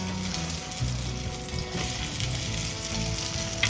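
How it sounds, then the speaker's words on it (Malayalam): Brinjal slices frying crisp in a pan over a medium flame, giving a dense, steady, close sizzle with a few faint stirring touches and no talking. "ഇത് മീഡിയം ഫ്ലെയിമിൽ ഇട്ടിട്ട് വേണം ഇത് ഫ്രൈ ചെയ്തെടുക്കാൻ"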